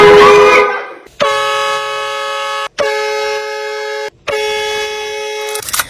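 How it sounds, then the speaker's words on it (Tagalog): Three long, loud car horn blasts in a row, each held about a second and a half with short gaps between, after a brief burst of noise, heard from inside the car. "kapag busina ako, sa loob yung busina, sa mismong harap nila sa loob."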